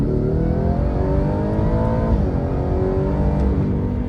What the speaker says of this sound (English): You can hear a little bit of supercharger whine too, which is nice.